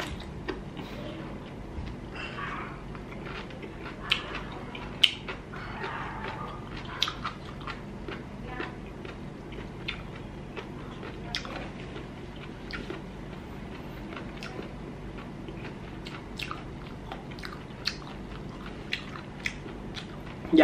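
Someone bites into and chews a large Vietnamese milk snail (ốc vú nàng), giving close, moist crunches and scattered clicking bites over a quiet background, with only occasional faint voice.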